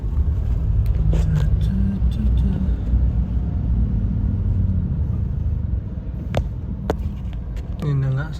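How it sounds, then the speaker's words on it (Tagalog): Road traffic rumbles steadily on a route toward a lake resort, cars and engines droning close by with a few sharp clicks and a brief tonal squeal near the end. "Traffic na."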